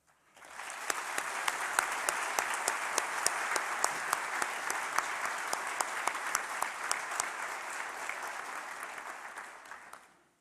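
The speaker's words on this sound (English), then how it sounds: "Please join me in a round of applause to recognize us" A large crowd at a graduation ceremony applauds steadily for about ten seconds, the clapping swelling quickly and then tapering off at the end.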